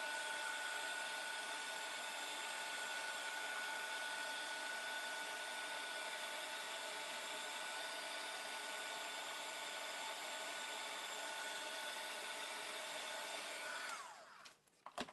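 Heat tool drying ink on a rubber craft stamp, a steady, continuous blowing whir held close for about fourteen seconds before it cuts off.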